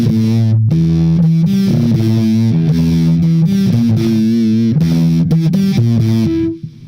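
Heavily distorted synth or guitar notes from the LeCto plugin by LePou Plugins, gritty, buzzing and loud, moving through a stepped melodic line with short gaps before cutting off at the end.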